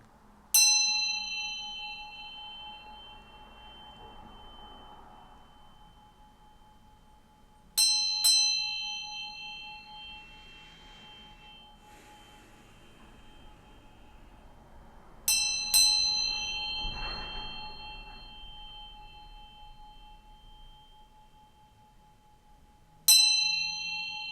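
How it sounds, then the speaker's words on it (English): A single bell is struck four times at steady intervals of about eight seconds, each ring bright and clear with a long, slowly fading ring, close and alone without talk. "I'm going to ring this bell a few times"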